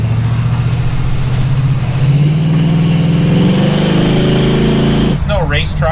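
An LS-swapped, bagged Chevrolet C1500 truck engine revs up loudly and close by, its deep droning tone climbing in pitch before cutting off abruptly near the end.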